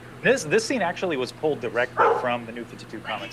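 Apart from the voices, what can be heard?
dog barking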